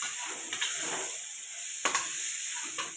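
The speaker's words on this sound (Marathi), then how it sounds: "आणि हिला पण मसाल्यात परतून घ्यायचं थोडस, मटकीला पण." Boiled moth beans (matki) sautéing in a fried masala in a pan, giving a steady close sizzle with a few brief stirring scrapes.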